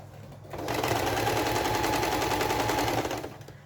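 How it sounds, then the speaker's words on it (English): A sewing machine runs at a steady fast clip while attaching binding to a quilt, a dense rattling whir that starts up, holds for about two and a half seconds, then stops. "machine attaching the binding, and then it'll be ready for hand quilting"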